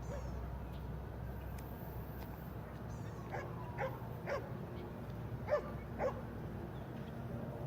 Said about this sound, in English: There's a dog who wants attention over there.